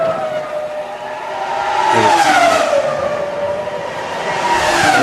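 Formula 1 race cars in the F1 2005 video game at the Brazil race, a loud engine whine sweeping in pitch as one car overtakes another, with brief tire squeal, continuous and close.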